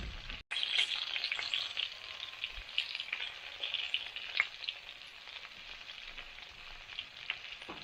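Chicken frying in hot oil at a church fried chicken event, a dense, steady crackling sizzle that runs continuously and fairly loud, with no voices.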